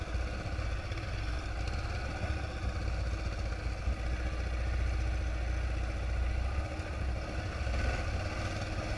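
A motorcycle engine idles steadily, close by, with a continuous low rumble and faint clatter that holds evenly for the whole stretch, with no talk over it.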